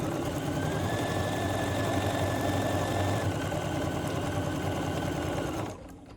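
A sewing machine stitching a quilt block runs continuously and loudly up close, with a steady rapid needle rhythm that winds down and stops near the end.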